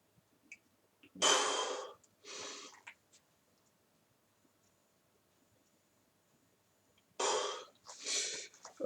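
Heavy breathing after a round of burpees at home: two pairs of loud, rasping exhalations and inhalations separated by several seconds of near silence, close to the microphone, with no talking.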